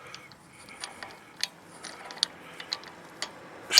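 A wheel lock thread receiver being screwed in with a hex key, heard as faint, irregular ticking and ratcheting clicks, close and quiet, with a louder scrape at the end.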